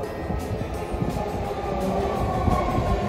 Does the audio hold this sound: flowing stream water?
no